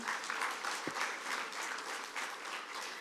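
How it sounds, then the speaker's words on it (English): Steady applause from an audience fills the whole stretch, a dense patter of clapping at moderate distance with no voices over it. "let's give a huge round of applause once again"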